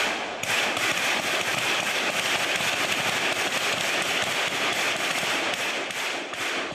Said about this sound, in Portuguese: lá eles estão atirando ainda